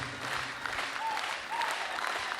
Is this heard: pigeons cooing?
no